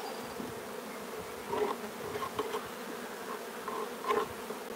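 Honey bees swarm around a hive during a late-summer inspection, a constant close buzzing with a few louder wingbeat swells as individual bees pass near.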